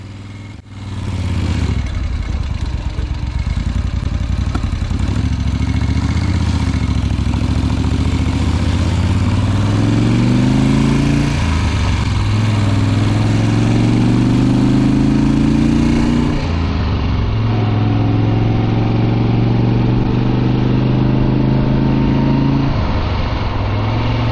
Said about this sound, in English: if you switch off for a while to look around, the bike will probably start again. Yes, even my old Eldorado will, most of the time.